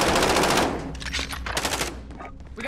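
Rapid automatic gunfire bursts in a Battlefield-style video game, a dense machine-gun volley up front followed by scattered sharper shots, loud and close with no talk over it.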